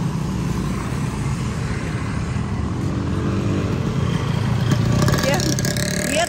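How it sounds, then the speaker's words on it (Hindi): A motorcycle passes on a street, its engine drone building and fading against steady background noise, with faint voices nearby. "ये तो देसी मोटरसाइकिल थी"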